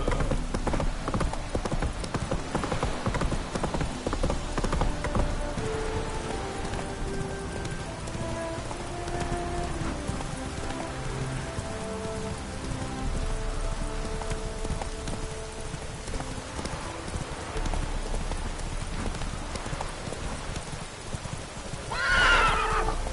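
Roach the horse in The Witcher 3 trots with steady clip-clop hoofbeats and neighs, over a soft bed of falling rain and game ambience.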